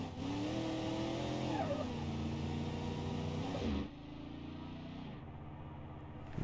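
A car engine in BeamNG.drive revs and accelerates hard toward a jump, its tone rising and falling through gear changes, then dropping off sharply as it goes airborne.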